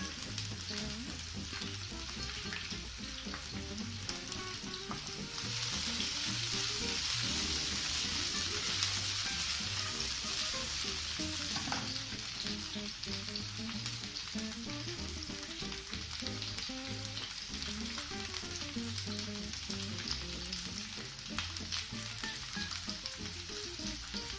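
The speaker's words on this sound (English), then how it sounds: "first in with the peppers. You'll want to fry those off to get them nice and soft" Peppers frying in a pan, a continuous close sizzle with crackling and clattering stirring that swells in the middle and stays steady throughout, no one speaking.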